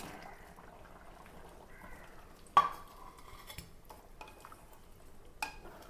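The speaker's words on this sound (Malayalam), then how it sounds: "ഈ കപ്പ അങ്ങോട്ട് ഇട്ട് കൊടുക്കാം." Boiled tapioca (kappa) tipped into beef cooking in a pan and stirred through, with scraping utensil clatter and a couple of sharp knocks against the pan, fairly close and quiet, with no talk.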